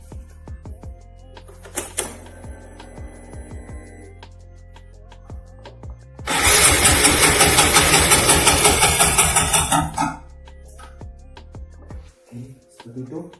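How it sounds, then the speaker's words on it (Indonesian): A fuel-injected engine fitted with its old injector is cranked on the starter, then catches and runs with a loud, steady pulsing for a few seconds before cutting out, after scattered clicks and taps. "Jadi ini mau saya pasang lagi injektor yang lama, terus saya tes starter."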